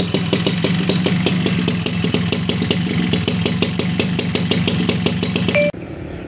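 An original Suzuki Tornado GX motorcycle idles with a steady, crisp, rhythmic exhaust beat close by, running evenly before cutting off abruptly near the end.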